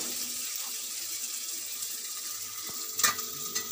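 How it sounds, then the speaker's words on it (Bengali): Onion frying in a small amount of oil in a pan, a steady close sizzle with occasional stirring clinks and a brief louder spatter near the end. "পেঁয়াজটা একটু ভেজে নেব"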